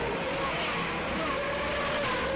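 A pack of 1986 Indy cars rumbling down the backstretch behind the pace car at the Molson Indy Toronto street race, a steady, continuous engine drone at moderate distance with no distinct pass-bys.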